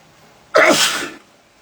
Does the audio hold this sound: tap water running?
no